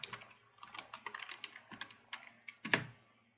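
Quick, quiet bursts of typing on a computer keyboard, with uneven clusters of light key clicks that end in one sharper tap, heard close up and on their own.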